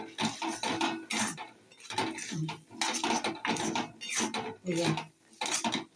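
Peanuts are stirred in thick palm jaggery syrup in a pan, a spoon scraping and clattering in repeated bursts of rough, gritty strokes, close and moderately quiet.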